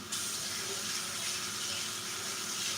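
Tap water runs steadily into a sink while cooked noodles for mac salad are rinsed under it, a continuous close hiss of flowing water with no talk.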